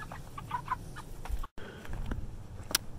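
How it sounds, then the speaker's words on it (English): Pastured chickens cluck and call in short, irregular bursts, fairly close and moderately quiet over a soft outdoor background, with no talk. "If a chicken wants water, it's just going to bump it out of the way anyway."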